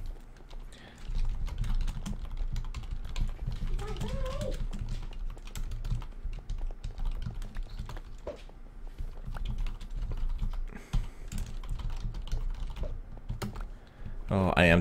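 Rapid clacking of computer keyboard keys while playing Minecraft, typed in bursts with brief pauses, close to the microphone, with a voice occasionally heard in the background.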